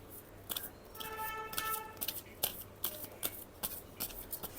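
Tarot cards shuffled by hand to draw a single card, a run of quick papery riffles and snaps close up, with a faint tone in the background.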